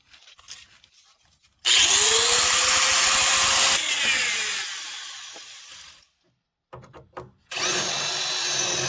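A power drill bites into the steel rocker panel of a 1986 GMC Vandura, whining loudly in two long bursts with a gap and brief stuttering starts between them, close and harsh with no talk.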